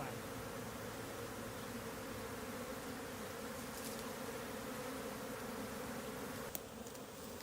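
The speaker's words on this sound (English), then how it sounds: "So a lot of the bees landed on me, which isn't ideal." Bees swarm around a beekeeper during a hive rescue, a dense continuous buzzing hum filling the air close by, with a faint click near the end.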